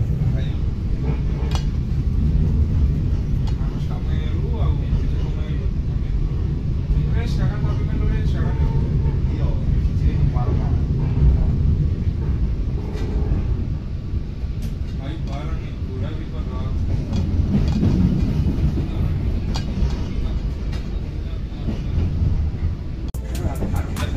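Jayabaya economy-class New Generation passenger train running on the line near Surabaya Kota, a steady low rumble and clatter of rolling wheels that persists throughout, with occasional rattles and clanks, under a talking voice.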